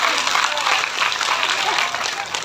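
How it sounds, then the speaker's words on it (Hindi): Loud, dense applause from an audience at a Shrimad Bhagavat Katha religious gathering, steady and sustained throughout, with some crowd noise mixed in. "एक बार जोरदार तालियां मेरे शेर भैया के लिए।"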